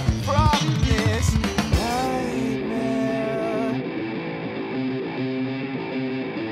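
A heavily distorted filter guitar inside a dense rock mix plays continuously and loudly, with a sharp, strummed attack in the opening seconds giving way to sustained, buzzing chords, with no speech.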